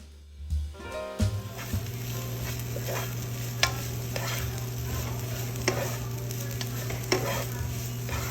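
Zucchini and turkey sizzling and being stirred in a breakfast skillet, a steady frying hiss with scraping strokes and occasional clinks throughout, close and moderately loud.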